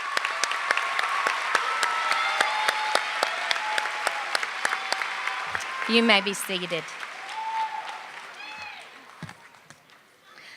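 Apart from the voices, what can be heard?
audience applause at graduation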